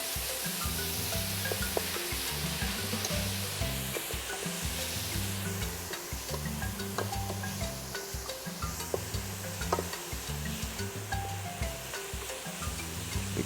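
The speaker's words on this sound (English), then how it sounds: "We give a little stir." Vegetables seasoned with black pepper sizzle and fry steadily in a pot while being stirred, a continuous loud crackle with a low rhythmic scraping pulse underneath, no talking.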